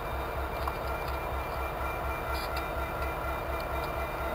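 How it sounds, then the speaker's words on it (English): A Norfolk Southern SD60 diesel locomotive idles steadily on a stopped hopper train with a deep, pulsing engine rumble, continuous and close, with faint higher metallic tones above it. "apparently the SD60 is the only unit that's running on this train right here"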